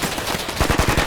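Rapid machine-gun fire rattles through a video game firefight, loud and close, with sparse shots at first that build into dense, regular bursts in the second half.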